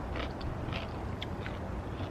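A fresh garden carrot is bitten in a backyard after a snowstorm, giving a few faint, crisp crunches over steady outdoor background noise.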